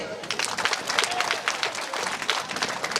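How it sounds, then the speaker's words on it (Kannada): Students at a college welcome event for new students at a PU college clap together in dense, sustained applause, with crowd noise mixed in. "ಚಟ್ಟಿ ಚಪ್ಪಾಳೆ."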